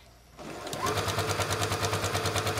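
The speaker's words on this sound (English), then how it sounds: "sew the rest of that down, and when you get to the edge, back stitch" Sewing machine stitching ribbon trim onto a tutu starts after a short quiet moment, then runs in a steady, close, rapid mechanical chatter with regular needle pulses.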